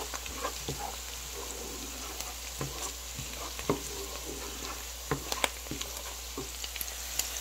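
Onion and garlic fry in a pot for a shrimp rice dish, a soft steady sizzle with occasional sharper pops and crackles, fairly quiet and continuous with no talking.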